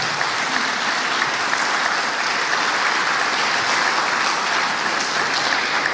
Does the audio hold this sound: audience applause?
yes